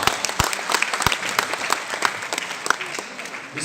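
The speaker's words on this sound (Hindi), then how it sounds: "मैं चाहूंगा सर के लिए जोरदार तालियां जरूर चाहूंगा।" Audience applause at a diamond celebration event for a business network in Bihar, steady hand-clapping from a moderate crowd with a few sharp, louder claps standing out near the microphone.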